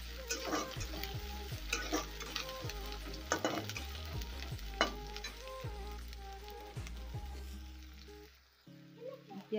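Ginger and garlic hit hot oil with pork and onions, sizzling loudly and steadily up close, with spatula stirs and scrapes, the frying dropping away near the end.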